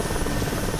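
A Mil Mi-8 helicopter descends in flight while shaking hard, filling a brief moment with a dense, constant roar of rotor and engine, loud and close, with no voices.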